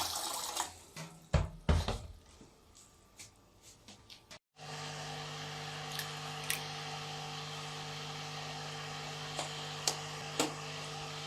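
Water runs steadily from a tap into a pressure cooker in a home kitchen, a quiet, even stream after some brief clinks and handling knocks at the start.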